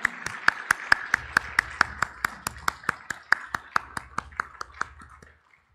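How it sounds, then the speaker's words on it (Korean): Church congregation gives a round of applause at a Sunday service, sounding as evenly spaced single claps, a steady rhythmic beat that fades out near the end. "한 번 더 큰 박수 하시겠습니다."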